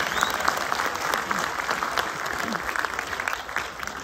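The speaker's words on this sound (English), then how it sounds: "Please give them a round of applause." Audience at a meeting gives a steady round of applause, dense continuous clapping heard from within the crowd at moderate volume throughout.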